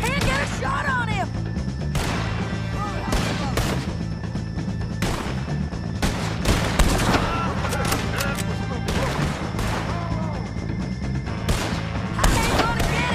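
Gunfire in the video game Red Dead Redemption 2, sharp shots and cracks repeating irregularly through a dense game mix of whooshes and background noise, with voices heard at times.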